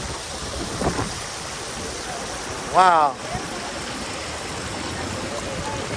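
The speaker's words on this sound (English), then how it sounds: "And look at this, a little cooling water fountain." A small cooling water fountain on New York's High Line gives a steady, soft splash and trickle throughout, while a person briefly exclaims and a short whistling tone rises in the middle.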